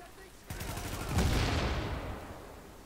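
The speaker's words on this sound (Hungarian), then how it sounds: "Mondjuk meglepjük őket egy gránáttal." Grenade explosion and gunfire in The Division: a sharp onset followed by a heavy, rumbling blast that swells and slowly decays, with overlapping shot bursts, close and loud.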